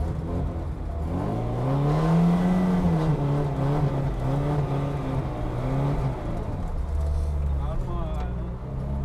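A drift car on a track, its engine revving and wavering in pitch over a continuous loud drone from a nearby motor, with someone talking over it.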